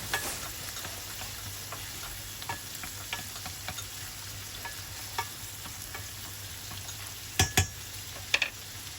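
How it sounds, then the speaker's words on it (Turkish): Steady sizzling of liver and finely chopped peppers sautéing in a pan, with occasional clinks and scrapes of a utensil stirring, and a couple of louder knocks near the end. "Üzerine ince doğradığım biberleri ilave ediyorum. Hepsini birden kavuruyorum."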